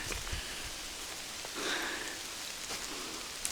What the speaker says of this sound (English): chucking it down with rain